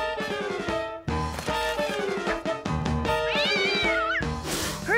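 A cartoon cat meows repeatedly in a long run of close, loud, drawn-out cries with rising and wavering pitch, broken by short pauses, ending in a strained caterwaul.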